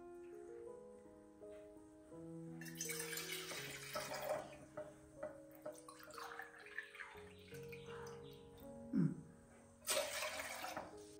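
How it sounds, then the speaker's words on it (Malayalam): Two glasses of water poured out in a home kitchen while a drink is prepared: splashy pouring bursts, one longer and a brief later one, over steady background music. "അപ്പൊ രണ്ട് ഗ്ലാസ് വെള്ളം ഒഴിച്ചു കൊടുക്ക."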